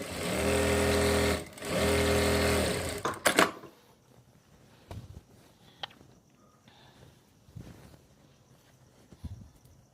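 A domestic sewing machine stitches a pants/palazzo leg seam in two loud, steady runs of about a second and a half each, separated by a brief pause, then stops, leaving soft handling and rustling of fabric.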